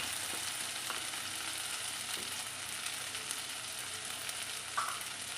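Green chili, onion and capsicum frying in a pan, a faint, even, steady hiss of sizzling oil with a few soft stirring ticks and no voices.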